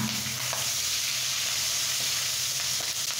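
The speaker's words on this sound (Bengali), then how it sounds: "তেলটা প্রচণ্ড গরম, এই জন্য ফুটতেছে।" Chopped onion and green chili sizzle in very hot oil with a steady, dense crackle and hiss that holds evenly throughout, close and fairly loud with no voices.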